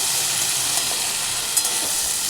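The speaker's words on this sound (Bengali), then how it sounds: "সবজিগুলো ভাজা ভাজা হয়ে এসছে।" Mixed vegetables for sambar dal, salted and sprinkled with turmeric, frying in a pan with a steady close-up sizzle and hiss, broken by a couple of brief clinks or pops, and no voices.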